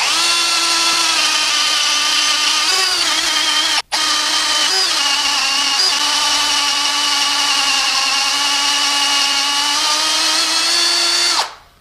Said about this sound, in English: We'll just drill this thing out.